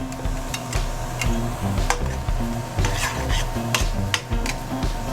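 Fresh sliced garlic added to meat frying in a pan, a steady close sizzle with repeated scraping and stirring taps of a utensil against the pan.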